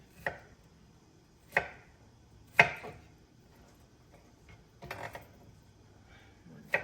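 Cucumber being sliced with a knife on a cutting board, heard as a few separate close chops spaced about a second apart, with a quieter cluster of small cuts near the end and no talk.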